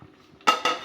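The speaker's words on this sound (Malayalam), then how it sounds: "നമുക്ക് മൂടി വെച്ച് വേവിക്കാം" A metal lid is set onto a cooking pot of simmering anchovy thoran, giving two quick close clanks in succession.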